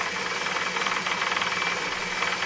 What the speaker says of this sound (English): turn on the power on the lathe, and crank it in a little bit, okay